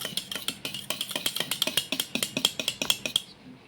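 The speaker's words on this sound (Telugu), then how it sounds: "ఇవన్నీ ఇలా బాగా కలుపుకుంటే ఇలా బాగా కలిసిపోతాయి" A spoon clatters rapidly and steadily against a bowl while homemade washing-machine detergent ingredients are stirred and mixed, dense rhythmic close clinks running throughout.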